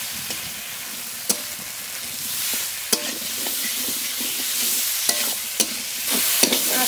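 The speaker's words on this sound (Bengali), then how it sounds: "মশলার সঙ্গে আরেকটু কষিয়ে নেব।" Boiled taro stolons are stirred and sautéed with spices in a pan, giving a soft steady sizzle broken by several sharp spatula clacks against the pan.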